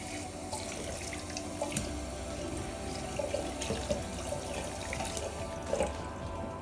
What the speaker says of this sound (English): Now you want to wash your Seamoss.